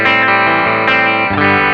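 Through the bridge pickup, a Warmoth partscaster electric guitar rings out a loud, sustained distorted chord with a snarling edge, shifting to a new voicing partway through and holding it.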